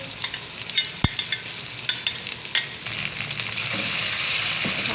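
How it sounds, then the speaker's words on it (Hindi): Marinated chicken hits hot oil with onions in a pan, bursting into a loud sizzle with a sharp thump, then steady frying crackle with scattered stirring scrapes, close up and alone. "यहाँ आप डालेंगे चिकन, मैरिनेट हुई हुई चिकन डालेंगे"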